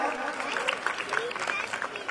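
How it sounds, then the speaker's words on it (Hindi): An audience at a religious quiz competition at the Shri Siddhbali Baba annual festival applauds a correct answer with steady, dense clapping that fills the short moment at moderate loudness. "बिल्कुल सही जवाब, जोरदार तालियां"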